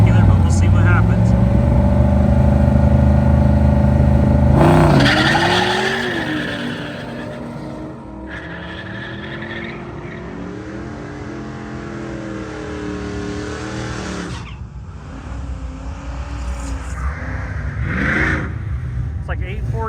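A car launches down a drag strip on street tires at a test-and-tune day, its engine roaring and rising through the run, then fading as it moves off, with voices talking over the track noise.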